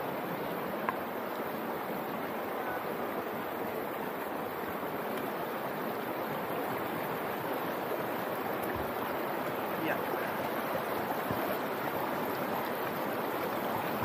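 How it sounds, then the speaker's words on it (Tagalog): A strong mountain stream current rushing in Coto Mines near Masinloc, Zambales, a loud, steady, broadband roar of flowing water that fills the whole stretch without a break. "Agos ng tubig, medyo malakas."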